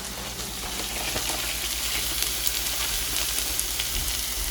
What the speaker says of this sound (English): Now the onions are starting to fry and it's getting brown